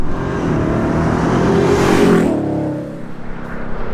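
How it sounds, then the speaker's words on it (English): The supercharged V8 of a Ford F-150 Raptor R truck revs loudly, its roar swelling to a peak then easing off into a lower rumble, close by and without voices. "The supercharged V8. Like, this is basically noise and street cred."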